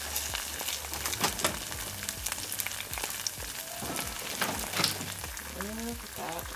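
Egg and cheese fry in a pan for a keto breakfast, giving a steady close sizzle and crackle throughout, with brief voice-like tones near the end.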